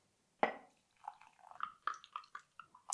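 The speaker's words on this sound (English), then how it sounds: "So I put quite a small amount of water in this." Water poured in small amounts into a pouch of MRE freeze-dried instant coffee from a Lithuanian military ration, heard as a sharp initial splash followed by a series of light, close trickling and dripping sounds.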